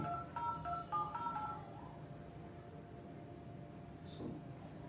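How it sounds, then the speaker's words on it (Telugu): A phone being dialled to make a call from a home kitchen, a quick string of short touch-tone beeps at the start followed by a quiet room hum and a faint brief chirp. "సో మా అమ్మకు ఫోన్ చేద్దాం"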